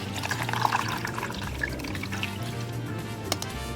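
Water being poured into the chamber of a Hasbro Hydro Pods Dunk & Sunk toy arena, a steady close splashing trickle with a few small drips and clinks, continuous and moderately loud.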